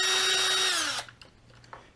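A power tool whirs at steady pitch while removing bolts from a Traxxas X-Maxx RC truck, running for about a second then winding down, close and fairly loud, followed by faint clicks.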